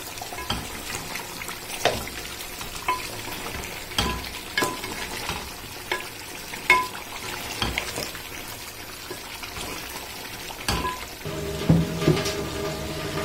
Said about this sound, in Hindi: इसी तरीके से इसको मैं भूनूंगी तकरीबन 5 से 6 मिनट के लिए, ताकि अच्छी तरीके से इसका मसाले का कच्चापन खत्म हो जाए।